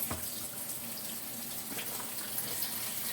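Water runs steadily from a kitchen tap while collard greens are washed in the sink, a soft continuous hiss and splash with a few small surges, fairly quiet and without talk.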